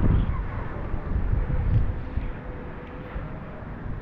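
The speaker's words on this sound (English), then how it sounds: "the wind is also very fast and very heavy" Strong, heavy wind gusts during a rainstorm under dark skies, a dense roaring rush that buffets the microphone, louder at first and then easing slightly, with no voices.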